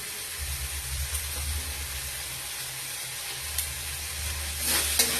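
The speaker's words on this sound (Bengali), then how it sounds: "এটা ভালোভাবে নাড়তে রাখছি। আর দুটো কাঁচা লঙ্কা আমি এর মধ্যে ফাটিয়ে দিচ্ছি।" Broccoli with green chillies sizzling and hissing steadily in a pan, a continuous frying hiss with a low rumble underneath and occasional light scrapes of stirring near the end, no talking.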